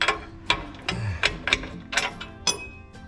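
Bolts on a Jeep Gladiator differential skid plate are being tightened, giving a run of sharp mechanical clicks and ratcheting bursts roughly every half second, close and fairly loud against a low hum.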